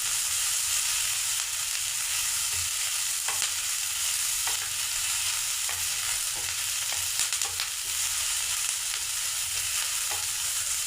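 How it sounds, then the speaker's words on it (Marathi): Chopped onions sauté in a hot pan with oil for a paneer curry, a steady close sizzle and hiss running unbroken throughout, with faint scrapes of stirring now and then and no voices. "कांदा परतून घ्यायचा आहे।"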